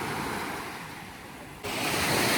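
Sea waves washing onto a wide, gently sloping sandy beach on Crete, a continuous loud hiss of surf that swells a little louder near the end, with no voices.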